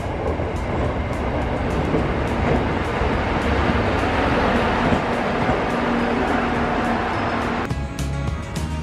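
A Tadami Line train pulls into a quiet station at night, its low steady rumble building and holding. Near the end comes a brighter burst of rattling and brake squeal.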